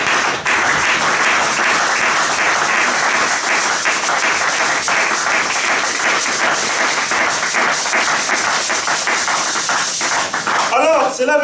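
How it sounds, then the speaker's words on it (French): A church congregation claps and cheers loudly in praise of the Lord, a dense sustained wave of applause lasting over ten seconds with voices mixed in. "Est-ce qu'on peut acclamer très très très très fort le Seigneur?"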